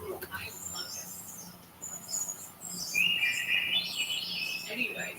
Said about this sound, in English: Birds get loud.